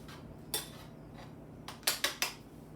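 A knife chopping cheese on a cutting board while eggs cook, a few sharp close taps, one alone and then a quick cluster of three near the end, over a faint kitchen hum.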